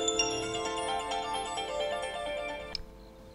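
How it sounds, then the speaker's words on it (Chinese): A mobile phone ringtone plays alone indoors, a steady bright melodic electronic tune with rich harmonic tones, loud and close, running for about three seconds before cutting off abruptly. "手机响了。"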